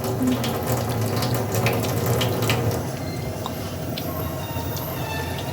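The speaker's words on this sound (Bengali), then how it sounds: "চলো চালটা ধুয়ে নিয়েছি" Tap water runs steadily into a sink while rice is washed, a loud continuous splashing that softens slightly partway through, with no one speaking.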